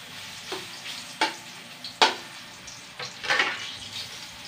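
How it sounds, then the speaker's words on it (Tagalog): Bananas frying in hot oil or butter in a home kitchen, giving a soft, steady sizzle with a few louder stirring scrapes and splashes, fairly quiet and with no talking. "Prito muna natin yung saging."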